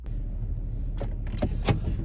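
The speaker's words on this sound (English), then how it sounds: "there's somebody back here getting out of their car" A person climbs out of a car in a parking lot: a few separate door and movement clunks and rustles land close by over steady low traffic rumble, with no talking.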